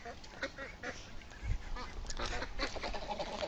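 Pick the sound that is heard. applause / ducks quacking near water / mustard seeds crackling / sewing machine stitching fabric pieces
ducks quacking near water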